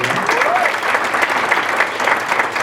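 Attendees at a county schools award ceremony give a dense, even round of applause, close and continuous from start to finish with no clear gaps.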